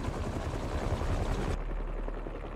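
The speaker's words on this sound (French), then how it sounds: "des pales d'hélicoptère, c'est ça." Steady helicopter blade thumping in Spider-Man 2 on PS5 pulses loudly and continuously, a dense rhythmic whir that suddenly loses its high end near the finish.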